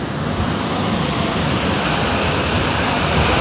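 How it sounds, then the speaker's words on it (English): A waterfall carries lots of water pouring down near a shallow pool in Yelapa, Jalisco, making a loud, steady broadband roar that stays constant throughout with no voices. "Loads of water coming down actually."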